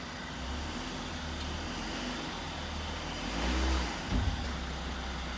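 A car engine idles and briefly revs as the vehicle rolls onto an 8.5x28 all-aluminum trailer, a low steady rumble with a swell and a short thump near the end, no talk.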